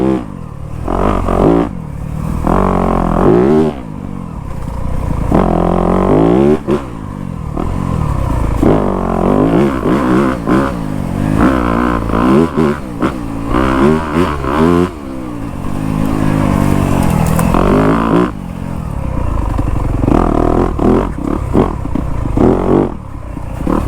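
A Yamaha YZ250F dirt bike rides through woods, engine revving and bogging as it climbs over logs, ruts and roots, loud and close with clattering and scraping throughout.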